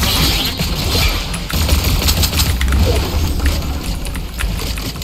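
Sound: gunfire in the video game Fortnite

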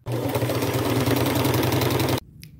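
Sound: sewing machine sewing a straight stitch

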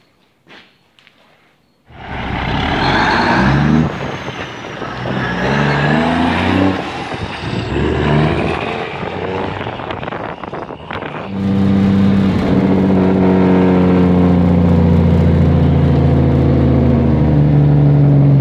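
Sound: 1971 Ford 9000 cabover truck engine with loud jake brakes

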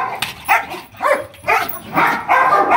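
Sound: dog barking during training

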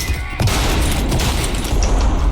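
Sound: shotgun fire in Trepang2 video game

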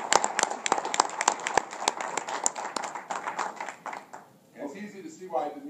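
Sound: audience applause for prize winner

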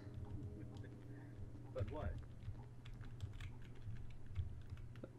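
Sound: typing on a new computer keyboard

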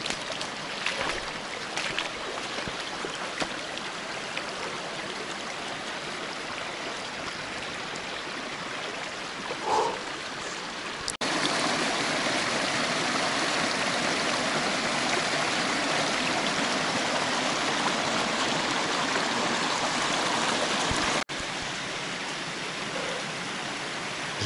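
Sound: forest stream flowing

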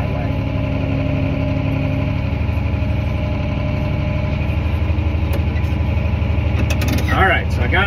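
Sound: farm vehicle engine pulling up to grain wagon

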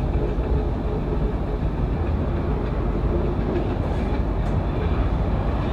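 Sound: Eastern Express passenger train running on rails

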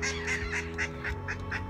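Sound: duck quacking

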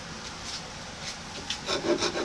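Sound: wood rasp shaping a wooden hammer handle

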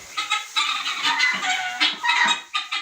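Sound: chickens clucking

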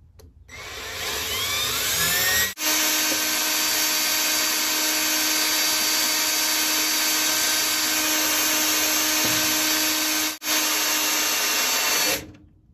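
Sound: electric drill boring through metal

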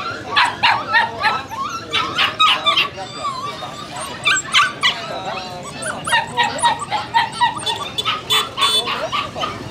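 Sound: dog barking and whimpering at a market

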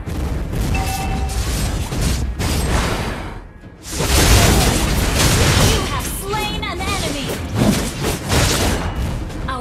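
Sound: turret being destroyed in the Mobile Legends video game

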